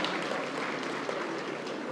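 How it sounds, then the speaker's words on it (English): Audience applause at the Accenture Gender Mainstreaming Awards 2023 ceremony, a steady wash of clapping from a crowd for about two seconds, fairly distant and even, with no voices over it. "That does deserve a round of applause."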